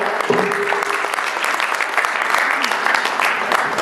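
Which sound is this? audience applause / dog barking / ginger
audience applause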